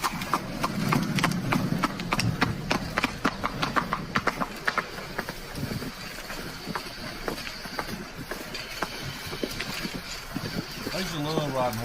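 Rapid clip-clop of horse hooves on a hard surface, steady and close, with chatter from people nearby.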